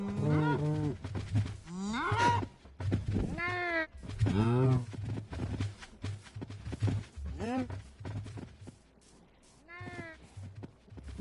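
Blocky cows lowing repeatedly on a Minecraft Bedrock Edition farm, several drawn-out moos overlapping at close range throughout, with someone talking over them.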